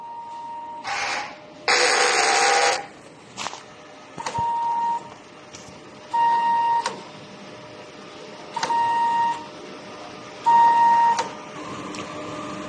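A DTF printer runs a print head cleaning cycle: bursts of pump and motor whirring alternate with several short electronic beeps spaced a few seconds apart, mechanical and close.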